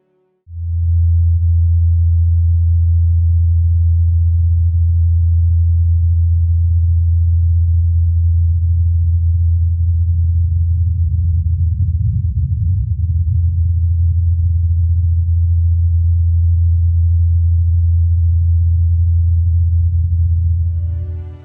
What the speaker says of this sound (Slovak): A toto je zvuk malého robotického vrtuľníka s názvom Ingenuity.